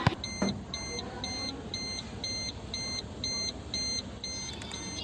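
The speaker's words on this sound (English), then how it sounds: "why it is beeping?" A car's warning chime beeps steadily inside the cabin, a regular series of evenly spaced electronic tones at moderate loudness over low road and interior noise.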